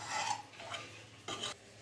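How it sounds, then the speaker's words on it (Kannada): A spoon scrapes and presses through well-cooked toor dal in a pot, making three soft, rasping strokes with short pauses, close and clear with no talking. "ಇದು ಸ್ಪೂನಲ್ಲೇ ಒಂದು ಸ್ವಲ್ಪ ಮ್ಯಾಶ್ ಮಾಡ್ಕೊಂಬಿಡಿ."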